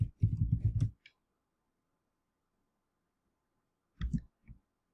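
Computer keyboard typing comes in a quick, faint burst of clicks, a pause of near silence, then a second shorter flurry of keystrokes.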